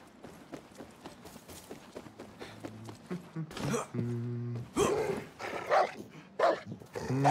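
Dog barking in the video game Far Cry 6, several sharp barks mixed with game effects and a player talking over the action.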